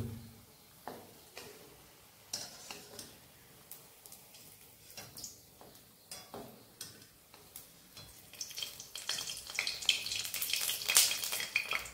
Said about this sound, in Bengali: এবার আমি বাকি বড়াগুলো সব এভাবে ভেজে নেব।